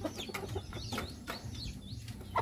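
Native Bisaya chickens cluck in short, repeated calls at close range, with scattered higher squawks over a rustling farmyard background and no talk.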